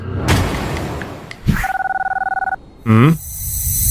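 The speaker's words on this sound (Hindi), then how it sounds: "इस फोन की रिंग तो यहीं कहीं बज रही है" A phone rings in a video game, GTA 5, with a rapid pulsing electronic trill lasting about a second, amid brief game sound effects and chimes before and after.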